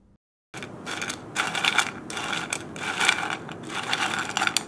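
Crispy fried potato pieces rattle and clatter together in repeated shaking bursts, close and fairly loud, with brief pauses between shakes.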